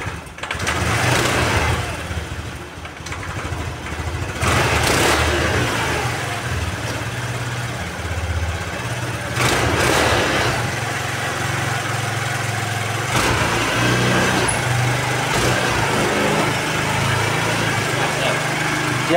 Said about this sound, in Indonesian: Dia nggak mati, malah dia RPM-nya tinggi sendiri